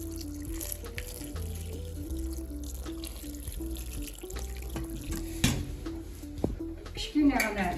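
Water pours and splashes from a tap into a pot of dolma layered over potatoes, steady and close, with clinks of the pot and a voice talking over it.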